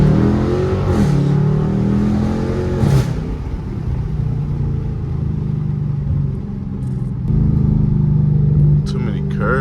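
Car dropped into first gear and accelerating through a residential neighborhood, engine revving with rising and falling pitch, loud and close from inside the car, heavy rumble throughout, with a voice speaking over it.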